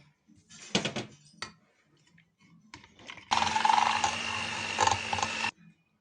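Eggs and sugar are mixed in a bowl for a cupcake batter: a few scattered clinks and taps come first, then about two seconds of close, rapid, steady scraping and clattering against the bowl before it stops.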